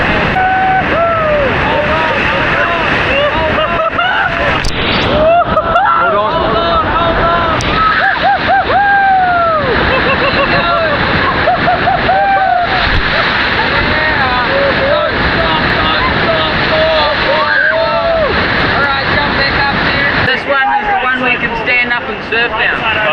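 Inflatable raft plunging down a 7 m waterfall, with loud continuous rushing and splashing water throughout and people shouting and talking over the roar.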